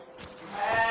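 Domestic goats kept at home bleat once, a short nasal call that swells and grows louder toward the end, close by and alone without talk.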